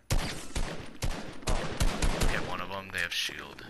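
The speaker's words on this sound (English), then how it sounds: "we're getting shot at!" Fortnite gunfire hits in rapid sharp bursts, several loud close shots in quick succession, with excited players talking over and between them toward the end.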